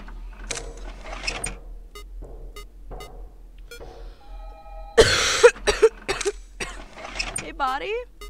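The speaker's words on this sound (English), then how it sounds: "Body, now is not the time for me to cough." A sharp cough breaks out during a Five Nights at Candy's 2 playthrough, followed by a few smaller coughs and throat noises, set among bursts of talk over a low game hum.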